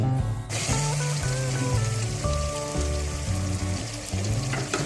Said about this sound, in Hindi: अच्छी तरह से मिक्स करके थोड़ा सा इसको पका लेंगे ताकि पेस्ट थोड़ा पक जाए।